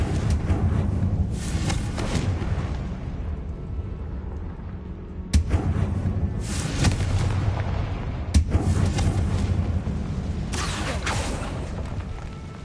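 Explosion spells cast in the Hogwarts Legacy video game: two sharp booms against a steady dense rumble of in-game ambience, with no talk.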